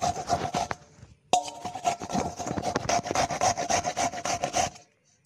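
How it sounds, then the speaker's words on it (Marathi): Fresh coconut being grated by hand, heard as a steady run of close, rhythmic rasping strokes with a brief pause after the first second, then continuous scraping until it stops abruptly near the end. "आता आपल्याला हे खोबरं जे आहे किसून घ्यायचं आहे"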